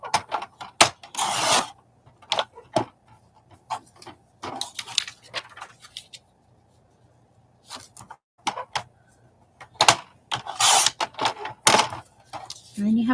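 Scissors snipping words off glossy magazine pages, a run of irregular crisp cuts and paper rustles close by, pausing briefly midway before resuming.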